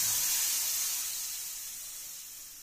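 Boiled dal poured into a hot pan of amber-coloured tempering with a little sugar, giving a steady bright hiss and sizzle that starts strong and slowly fades, with no talking.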